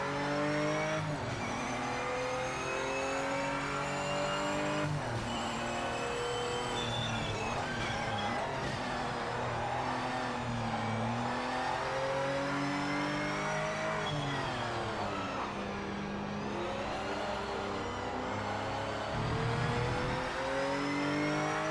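Aston Martin race car engine in the Project Motor Racing game, a steady loud revving drone that rises and falls through gear changes, continuous for the whole stretch with no talk over it.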